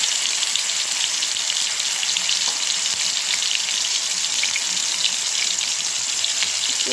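Fish fries in a pan with a dense, steady, loud sizzle and crackle that carries on without a break, close up and with no one talking.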